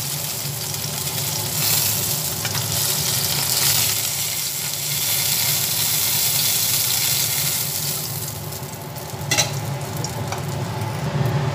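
Bata fish fry in oil in a pan, giving a continuous close, fairly loud sizzle with soft crackles and a few sharper pops toward the end, with no talking.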